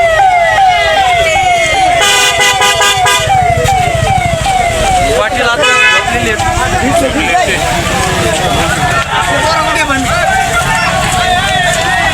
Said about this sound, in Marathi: त्या पोलिसाच्या गाड्या चाललेल्या आहेत